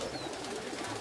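Racing pigeons gather at a loft in Ślesin as they return, giving a brief, soft coo against quiet outdoor background sound.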